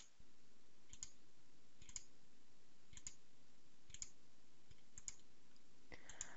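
Mouse clicks select nodes in STAAD.Pro software, making sharp single clicks at a steady roughly one-second rhythm, six in all, close and quiet over faint room hum.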